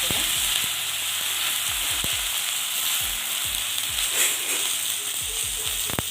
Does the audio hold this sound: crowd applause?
no